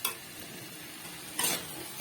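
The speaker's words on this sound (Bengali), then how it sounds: "দিয়ে আবার একটু নাড়িয়ে চাড়িয়ে ভালো করে কষিয়ে নেব" Chicken curry with small potato pieces is stirred and fried in a pan, with a faint sizzle under two short scraping stirs at the start and again near the end.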